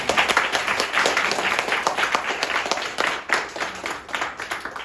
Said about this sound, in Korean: 여러분 박수 소리 들으니까 오늘 강의 잘 들을 것 같아요.